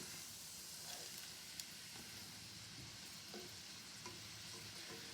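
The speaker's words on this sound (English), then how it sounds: "we're going to give this another good stirring. Mix it up a little bit. Get it spread out." Hen of the woods mushrooms frying in a pan while being stirred, with a steady close sizzle and occasional soft scraping and clinking of a utensil against the pan.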